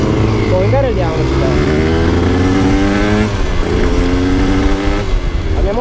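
Loud engines drone and rev nearby, pitch rising and falling as they accelerate, with a voice talking over the constant roar.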